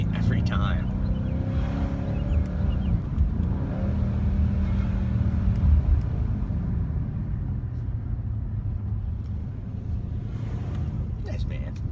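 Low, rumbling engine note of a Mercedes C63S AMG rising and falling as the car is given power, heard from inside the cabin as a steady, moderately loud drone with shifting pitch.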